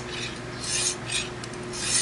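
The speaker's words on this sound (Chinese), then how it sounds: "这个时候就可以开始磨了。" Knife blade drawn along a synthetic stone on a Lansky guided sharpening system, giving repeated rasping strokes in a steady rhythm, close and fairly loud over a low hum, with no talking.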